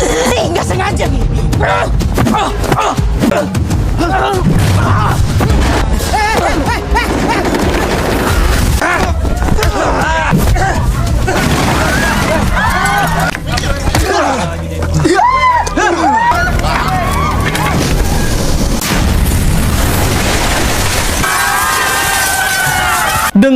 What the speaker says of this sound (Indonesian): Dengan diakhiri ledakan epik,